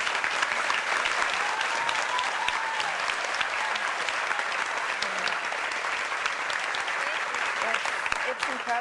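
A studio audience at a television talk show applauds steadily and loudly for several seconds, a dense wash of clapping with no pauses.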